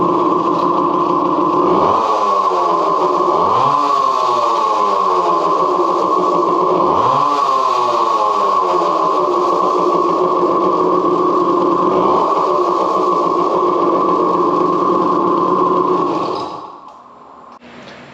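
A Suzuki TC-90 motorcycle engine fitted with a baffle runs close and loud at night, its small-engine drone rising in several repeated throttle surges before dying away at the end, with no talking.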